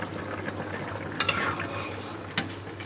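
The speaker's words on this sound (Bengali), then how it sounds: "হালকা হাতে একটু নেড়ে দিলাম" Chilli fish in batter gently stirred in a frying pan: a few scraping clinks of utensil against pan over a low, steady sizzle, close and fairly quiet.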